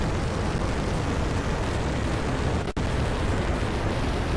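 A fire attack in Final Fantasy IX gives off a steady, loud, broadband roar like a blaze or blast that runs without a break, cut by a single momentary dropout, with no talking.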